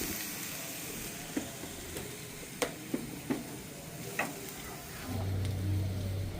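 Chicken spring roll filling with soy sauce sautéing in a pan gives a soft, steady sizzle, faint and close, broken by a few sharp taps of a utensil against the pan.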